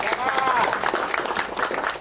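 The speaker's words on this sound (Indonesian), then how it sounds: "Tepuk tangan untuk Pak Menteri." Audience applause at a village gathering in Sirnarasa, Sukabumi, welcoming Indonesia's communications minister, a steady wash of crowd clapping over about two seconds with a voice speaking over it.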